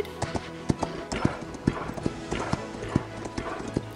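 Horse hooves clip-clop in the video game Equestriad World Tour, a steady run of sharp, evenly spaced hoof strikes heard close, with faint game background beneath.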